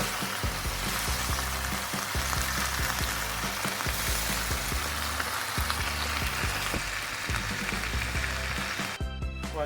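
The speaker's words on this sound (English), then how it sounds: "It's been boiling now for about a minute and a half." Vigorous bubbling and sizzling of Szechuan king prawn sauce with light soy boiling in a hot wok, steady and close, with a brief clatter near the end.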